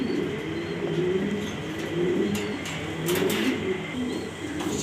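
A male Danish Black pigeon sits on its eggs and coos in low, rolling phrases that recur through the stretch, close by, over steady background noise from the loft.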